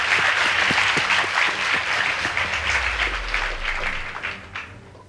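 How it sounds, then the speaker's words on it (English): Audience at a school debate competition applauding, dense steady clapping that fills the room and gradually thins and fades toward the end, with no voices over it. "Please give them a round of applause."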